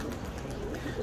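Tumbler pigeons coo near their coop, a soft, steady murmur of bird calls with a bed of low background rumble running throughout.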